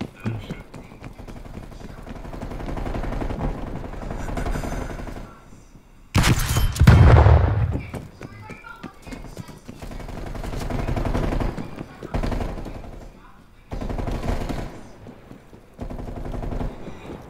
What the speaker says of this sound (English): He's shooting everything